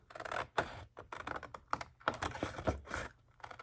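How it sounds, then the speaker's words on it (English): Scissors snip through paper along diagonal lines while an A2 envelope is made, giving a quick run of soft, close, crisp cuts with no talking. "Take our scissors, and I'm going to cut at the diagonal lines"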